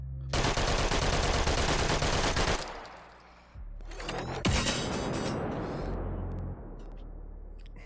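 Guns firing in the VR shooter H3VR, long bursts of rapid automatic fire, loud and close, broken by a short pause before a second volley with mechanical clatter.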